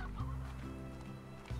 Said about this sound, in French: Et on va prendre des poules aussi au passage.